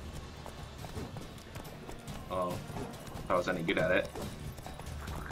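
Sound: horse galloping hooves in The Witcher 3 video game

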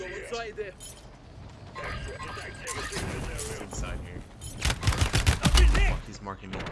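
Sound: gunfire in a video game

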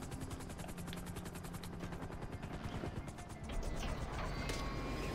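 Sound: helicopter in video game GTA 5 Online

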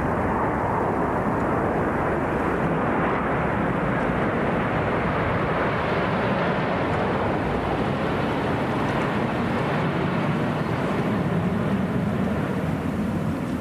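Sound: flypast of Phantom and Lightning military jet aircraft

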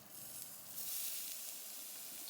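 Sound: frying tamarind and green chillies on low heat

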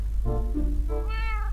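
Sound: cat meowing in Minecraft video game

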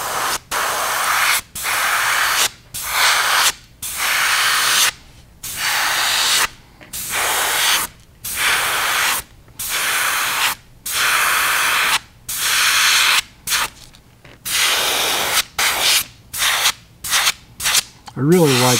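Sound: airbrush spraying pearlized white paint onto fishing lure

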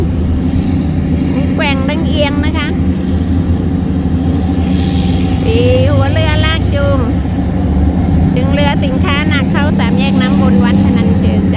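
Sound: tugboat engines on river

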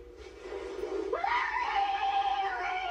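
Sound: child screaming in a video clip

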